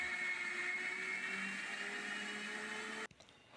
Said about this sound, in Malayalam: ആദ്യം നമുക്ക് ഈ പച്ചരി അരച്ചെടുക്കാം.